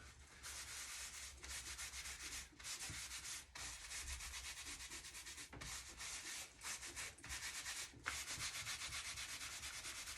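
Chalk paint being rubbed with a wet rag to distress a painted piece and let black show through: steady, close scrubbing strokes in continuous bursts with brief pauses, no talking.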